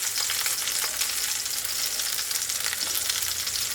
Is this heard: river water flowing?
no